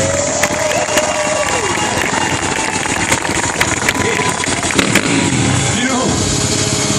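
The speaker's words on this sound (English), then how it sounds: "Can you give it up for my friend, Mr. Cody Elkin?" A crowd at an ATV freestyle show cheering and roaring under a loud announcer's voice, with engine revs and whooping rising and falling throughout.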